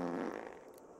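Fart sound from a mod in the video game Stray, a single low, buzzy blast that fades out over about a second.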